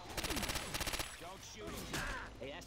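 Rapid bursts of gunfire from Left 4 Dead 2 with a Silent Hill mod, several quick volleys in the first second, followed by scattered effects and movement sounds.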